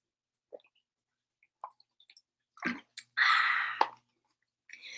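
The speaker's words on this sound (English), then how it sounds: "I'm having some more water." Someone drinks water up close and quietly: a few small wet clicks and sips, then a sustained sloshing gulp lasting under a second, followed by a brief swallow.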